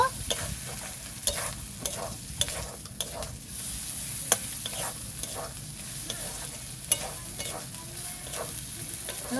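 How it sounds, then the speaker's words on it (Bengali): Chopped tomatoes sauté in a pan for a meat khichuri, a constant sizzle broken by repeated spatula scrapes and clinks against the pan at an irregular, busy rhythm, close and without speech. "দিয়ে দেবো কেটে রাখা টমেটো। আমি ভালো করে কষিয়ে নেব।"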